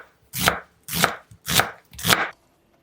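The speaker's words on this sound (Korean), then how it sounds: "양파는 반으로 자른 다음 가늘게 채 써세요" Four evenly spaced, crisp knife strokes slicing thinly through a halved onion onto a cutting board, loud and close with no talk.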